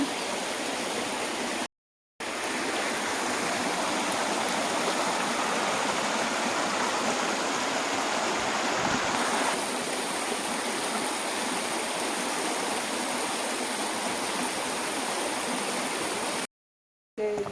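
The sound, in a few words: flowing stream water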